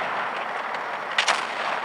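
Tank gun firing in a tank video game: a sustained whooshing blast with a short sharp crack near the end, fairly loud and alone without speech.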